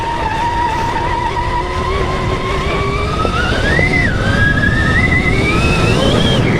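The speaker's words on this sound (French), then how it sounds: "ouais on entend le pneu, c'est fou." Tyre noise from a Stark Varg EX electric motorbike while riding, a loud continuous rushing hiss with a rising and falling whine over rough rumble, no engine roar.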